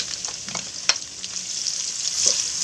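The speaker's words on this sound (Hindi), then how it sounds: "अब इसमें प्याज डाल देंगे" Onions are added to garlic and chillies frying in a pan for dhaba-style butter aloo palak, giving a continuous close sizzle broken by scattered light clicks and scrapes from stirring.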